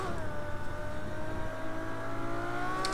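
A Ferrari LaFerrari engine in Project Cars 2, driven on the Algarve circuit in Portugal, sings in a sustained, rising rev with harmonic whine, close and loud, with no talk.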